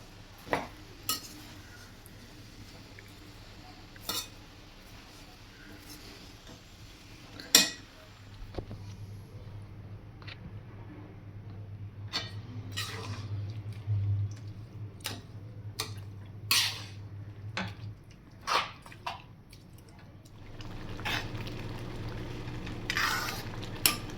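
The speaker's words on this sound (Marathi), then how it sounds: "गूळ आणि कैरीचा किस व्यवस्थितपणे आपण मिक्स करून घेऊयात।" Grated raw mango and jaggery being mixed in a pot for a sweet pickle give scattered spoon clinks and scraping knocks over a quiet background, with a low steady hum through the middle.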